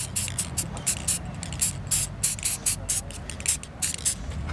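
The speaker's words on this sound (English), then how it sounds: "We're spray painting this lady's car." An aerosol spray can hisses in short repeated bursts while a car is spray-painted, each spurt close and loud, with voices talking faintly underneath.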